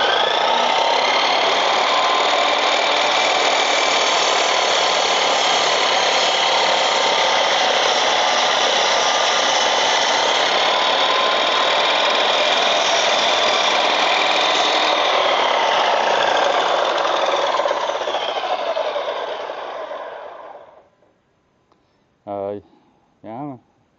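A power saw makes a long straight cut through clamped material for a garage table and shelf build. The whine is loud and steady for about twenty seconds, then winds down, followed by two short knocks.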